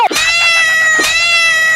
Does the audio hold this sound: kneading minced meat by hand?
no